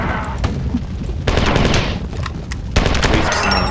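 Grenade launcher fire and explosions in the video game Marathon 2 Durandal: loud, dense bursts of gunfire-like blasts in rapid succession, with sharp booming onsets around a second and a half and near the end, no talking.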